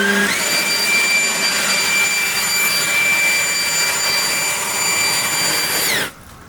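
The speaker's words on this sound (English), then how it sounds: "let's try the leaf blower out" A leaf blower runs steadily at close range in a cluttered garage, a loud whooshing roar with a high whine holding for about six seconds before cutting off abruptly.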